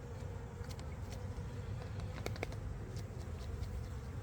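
About 350 to 400 honey bees buzzing inside a small mite-check container, a constant low hum with scattered light taps and clicks from the bees against the container.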